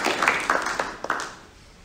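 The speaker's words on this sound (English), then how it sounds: "she needs more than a round of applause" Scattered hand claps from a small audience at a council meeting, a short uneven round that fades out quickly within a quiet room.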